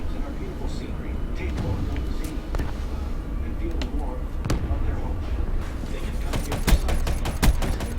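Gunfire in the Call of Duty Black Ops III video game: a burst of sharp shots near the end over a steady game backdrop, with a few scattered reports earlier and a voice talking throughout.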